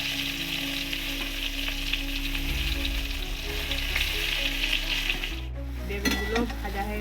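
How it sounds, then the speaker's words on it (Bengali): Brinjals fry in leftover fish oil in a pan with a strong, continuous close sizzle, broken by a brief clatter of a utensil toward the end; no one speaks. "মাছের তেলটাতে এবার বেগুনগুলো ভেজে নেব"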